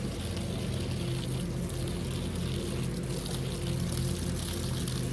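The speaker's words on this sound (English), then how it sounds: "This first time I've turned the hose on" A garden hose runs steadily, giving a continuous close rushing and splashing of water that holds an even level throughout, alone with no talk.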